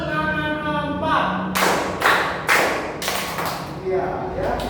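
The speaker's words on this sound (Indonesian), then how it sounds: "Tepuk tangan 1, tepuk tangan 2, tepuk tangan 3, tepuk tangan 4." A seventh-grade class clapping together in a counted rhythm, several loud, close bursts of claps a beat apart, with a teacher's voice leading between them.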